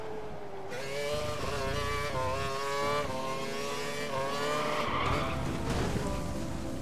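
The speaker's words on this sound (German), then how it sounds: "Das Auto driftet die ganze Zeit." A steady, droning Formula 1 car engine in the video game F1 2012 with whining tire squeal as the car drifts through the whole stretch, loud and continuous with shifting pitch, no voices.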